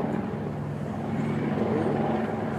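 A distant helicopter drones continuously high overhead near Saint-Tropez, a low steady rumble with faint rotor texture, with no talking.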